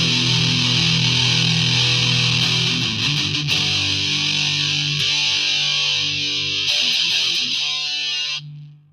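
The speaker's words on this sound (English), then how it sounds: "it's a good distortion guitar too" A heavily distorted electric guitar rings out with loud, sustained chords and a few changes before abruptly stopping.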